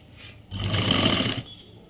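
Sewing machine stitching the collar of a government school uniform shirt, a steady loud mechanical whir that starts abruptly, runs for about a second and then stops, with quiet room noise before and after.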